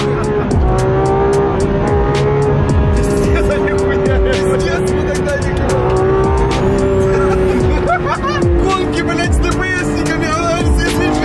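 Race cars, including a chipped Skoda Octavia in a high-speed police chase, roar continuously at high revs with shifting engine pitch and tire noise, close and loud throughout, while people talk over it.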